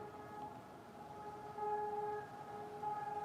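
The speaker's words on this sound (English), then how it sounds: "Testing the emergency sirens." A distant emergency siren wails in steady tones over a low background hum, rising slightly in level partway through.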